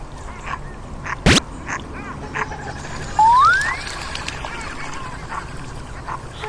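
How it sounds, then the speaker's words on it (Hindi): A duck quacks once near the middle, a short nasal call above a noisy outdoor background with a few sharp clicks and one brief burst. "बत्ता, बत्ता मुर्गाबी, बत्ता"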